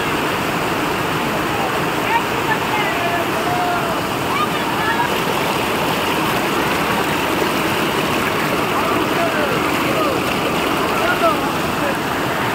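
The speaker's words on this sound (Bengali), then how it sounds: "অসাধারণ একটা ঝর্ণা, তার সাথে কোথায় আছি জানো, একদম ঝর্ণার মধ্যে" A waterfall on a trip toward Sittong, heard from right inside the falls: a loud, constant, dense roar of pouring water that fills the whole stretch, with a voice speaking over it.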